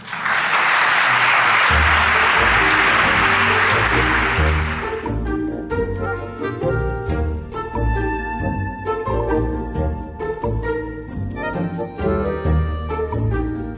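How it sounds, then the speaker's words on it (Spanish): Audience applause at a live Spanish radio show recording, a dense wash of clapping for roughly five seconds that then gives way to music. "¿podéis aplaudir a Marcos Carrasco, por favor?"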